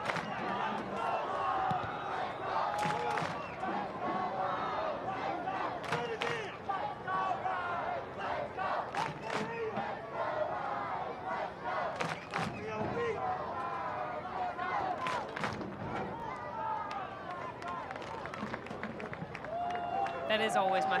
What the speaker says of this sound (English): That is always my favorite part of the cheer.